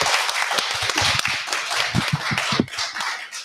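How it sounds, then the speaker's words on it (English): A small group claps in a brief burst of applause, close and lively, with uneven scattered hand claps throughout. "Let's give him a round of applause."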